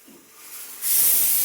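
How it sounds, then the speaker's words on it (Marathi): Steam hisses from a pressure cooker whistle, starting as a soft rising hiss, then bursting into a loud, steady rush of escaping steam close by. "कुकरच्या शिटीला"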